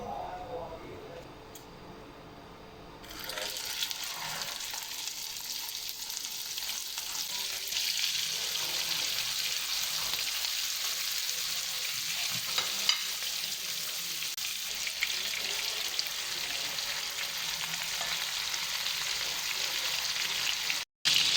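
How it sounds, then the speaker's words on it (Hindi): Mutton chapli kababs fry in a hot pan with a steady, loud broadband sizzle that swells after a quieter opening few seconds and holds evenly to the end, with no talking. "बाकी चपली कबाब भी हम फ्राई कर लेंगे।"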